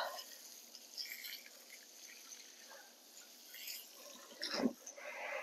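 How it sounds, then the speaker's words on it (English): Water soaks the soil of hanging baskets, a faint, steady splashing trickle that rises into a brief louder gush near the end. "I'm going to give them a really good soaking."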